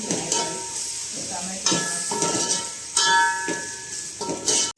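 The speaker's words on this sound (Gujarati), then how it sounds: "પછી ટમેટાને થોડી વાર તળવા દેવાના છે. તેલ સાથે મસાલો" Tomatoes sizzle loudly in hot oil with spices while a spoon stirs and scrapes the pan in repeated strokes, close up.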